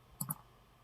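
Two quick mouse clicks land close together, crisp and fairly quiet, while selecting New Study in Illumina Connected Multiomics software, with near silence around them.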